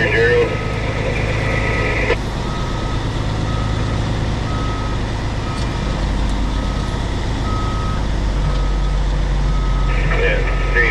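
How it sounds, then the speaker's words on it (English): A truck backing up with a trailer attached sounds a steady series of evenly spaced reversing beeps over a loud, continuous diesel engine rumble, with some muffled talk mixed in. "Yeah, straight back, Gerald."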